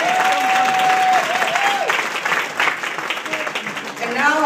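Applause from an audience at a Cody Rouge community meeting, steady dense clapping throughout with a whistle-like tone and voices mixed in.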